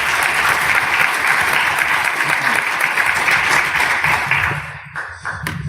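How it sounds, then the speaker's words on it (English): Loud audience applause fills the room, a dense steady wash of many hands clapping that fades out near the end as a voice begins. "if you give him a round of applause, that would be fantastic."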